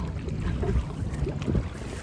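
Strong wind buffets the microphone beside a river abroad, a low, continuous rumbling roar with gusty swells, loud and close, with no talk.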